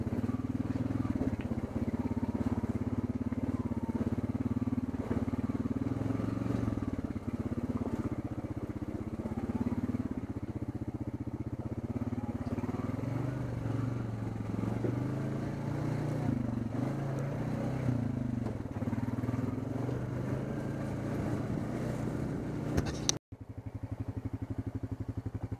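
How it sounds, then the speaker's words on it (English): A Rokon trail motorcycle rides along a wooded trail, its engine a steady, loud drone that rises and falls slightly with throttle for the whole stretch before cutting off abruptly near the end. "I was out riding on the Rokan."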